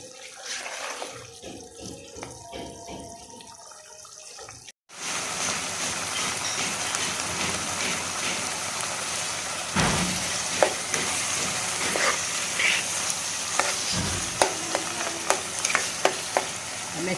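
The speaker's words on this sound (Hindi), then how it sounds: "अब इसको अच्छी तरह भून लेते हैं" Green masala mutton mince sizzles steadily in ghee in a pan, a dense crackling hiss with occasional stirring scrapes and clinks, close and continuous after a quieter opening moment.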